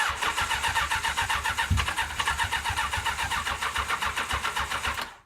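A Honda CBR1000F Hurricane motorcycle engine fitted in a Roketa GK13 buggy cranks and fires, settling into a loud, rough, pulsing idle close by before cutting off abruptly.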